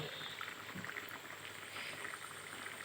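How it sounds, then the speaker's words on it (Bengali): Curry broth bubbles at a low simmer in a pot, a faint, steady gurgle of small bursting bubbles heard close, with no speech over it. "তরকারির জন্য ঝোল দিয়ে দিয়েছি এটা এখন দশ থেকে বারো মিনিট ফুটলে"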